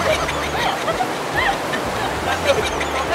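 River water rushing in a steady, loud wash of broadband noise with no distinct splashes, close by and continuous for the whole stretch.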